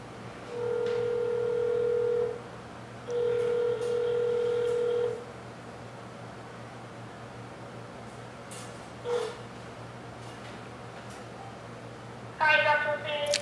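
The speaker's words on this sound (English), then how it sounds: "I'm going to call you on a regular phone." Dial tone and dialing on a regular telephone during a press conference: two steady tone stretches of about two seconds each, then a brief beep, and a quick burst of keypad tones near the end, all fairly quiet.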